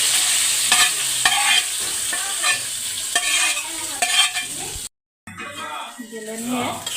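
Taro and country chicken curry stirred in a pan, with rhythmic scraping strokes over a steady frying sizzle, a brief silent break, then more stirring with a voice near the end.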